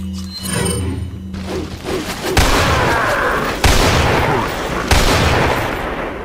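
Rapid gunshots from the Resident Evil 4 Life in Hell mod, three sharp loud blasts in succession, each with a booming tail, following a quieter stretch of game ambience at the start.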